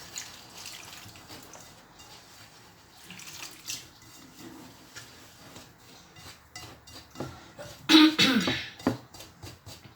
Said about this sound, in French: On va mettre de l'eau, on mélange.